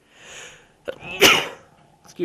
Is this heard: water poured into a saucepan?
no